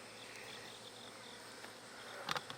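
Honeybees hum softly during a hive inspection, a faint, thin, continuous buzz, with a couple of brief clicks or knocks from handling near the end.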